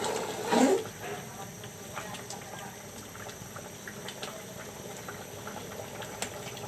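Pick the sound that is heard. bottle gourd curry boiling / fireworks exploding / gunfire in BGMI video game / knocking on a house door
bottle gourd curry boiling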